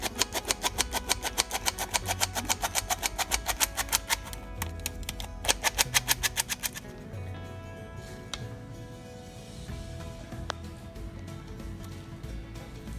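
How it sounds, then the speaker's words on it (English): Flour, sugar, cocoa powder and baking soda are whisked together in a bowl, a fast rhythmic run of ticking strokes for several seconds that then gives way to quieter scattered clicks and a low background rumble. "We have to whisk this thing properly."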